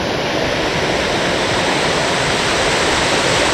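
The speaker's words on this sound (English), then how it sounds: "Nice little creek where I'll be collecting My water right down here" A small creek on the Pacific Crest Trail rushes and splashes in a close, loud, steady wash of water that holds unchanged the whole time with no voices.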